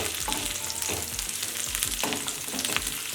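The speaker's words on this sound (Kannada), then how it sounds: "ಈರುಳ್ಳಿ ಹಾಕ್ಕೊಳ್ಳೋಣ ಹೈ ಫ್ಲೇಮ್ ಇಟ್ಕೊಂಡು ಸ್ವಲ್ಪ ಹುರ್ಕೊಳ್ಳೋಣ" Chopped onions fry in oil over a high flame for a tomato onion curry, giving a steady, close sizzle broken by soft scraping stirs.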